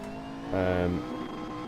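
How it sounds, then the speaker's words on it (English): A McLaren 650S engine in the racing game Assetto Corsa gives a short, loud rev that swells for about half a second and then drops back to a steady, lower drone. "I'm driving the Mclaren 650s"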